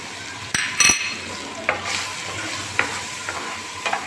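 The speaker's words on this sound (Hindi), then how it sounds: "अभी हमारा लहसुन अदरक फ्राई हो गया है तो हम ये मसाले शामिल कर देंगे।" Spices go into garlic and ginger frying in hot oil, giving a steady close sizzle broken by a few sharp scraping and clinking stirs of a utensil in the pan, with no voices.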